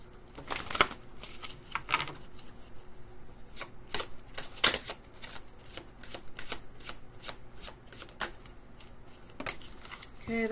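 A deck of tarot cards shuffled for a reading, riffling and slapping in quick, uneven bursts of crisp papery snaps, close and fairly loud, with a faint voice underneath.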